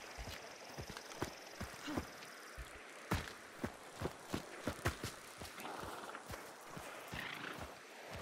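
Horse in Hunt: Showdown 1896 with a rapid clip-clop of hooves, close and fairly faint, irregular steps that bunch up in the middle, with a soft whinny-like sound and outdoor ambience.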